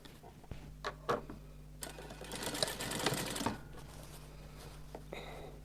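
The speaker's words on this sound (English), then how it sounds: "So you put it into your machine and you top stitch" A sewing machine top-stitches fabric at a plunge neckline inset, its needle chattering in a fast, steady run that swells for a couple of seconds between short bursts, quiet and close.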